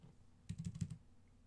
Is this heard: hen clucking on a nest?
no